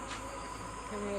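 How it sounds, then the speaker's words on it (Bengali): Crickets chirp in a dark village at night, a thin, steady, high-pitched trill running continuously at moderate volume. "ওই দেখেন ঝিঝি পোকা দেখা যাচ্ছে"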